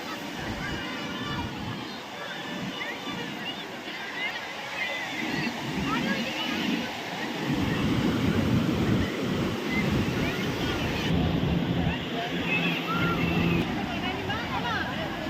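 Sea surf washing onto the beach at Puri, a steady roar with wind buffeting the microphone, swelling louder in the second half while people talk nearby.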